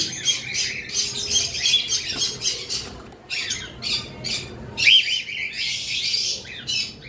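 Several cockatiels squawk loudly and repeatedly at close range, shrill harsh calls overlapping in bursts with short chirps between them.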